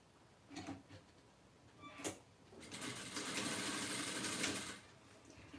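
A domestic sewing machine stitches fabric for an ecobag in two short bursts, then runs in a longer steady whir of several seconds before stopping, close and fairly quiet.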